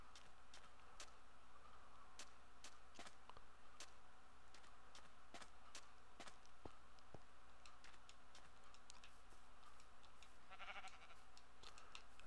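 Sheep bleating in Minecraft on Xbox One, a few short bleats standing out around the tenth second over a steady background of game ambience and repeated clicks.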